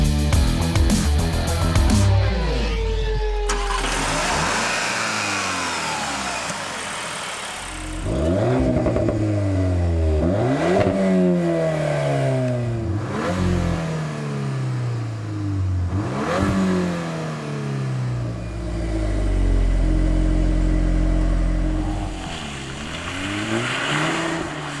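A 2022 Volkswagen Golf R engine starts and revs hard, with repeated loud rising and falling sweeps as the throttle is blipped and held, close and dominant with no talking.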